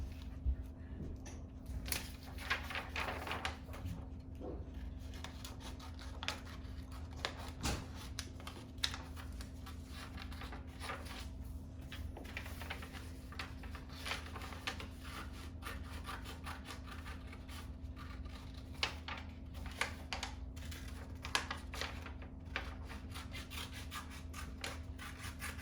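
Paper for quilling art is cut along drawn lines, giving quiet, continuous rubbing and scratchy snips close by, with a steady low hum underneath throughout.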